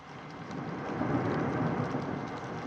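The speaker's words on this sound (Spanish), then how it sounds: "Durante el mes de agosto son frecuentes las tormentas, los aguaceros." A heavy summer thunderstorm downpour hisses steadily and evenly, a dense wash of rain with a low rumble swelling slightly and holding throughout, with no voices.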